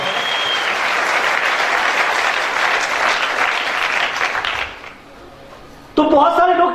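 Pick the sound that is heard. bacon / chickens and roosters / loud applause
loud applause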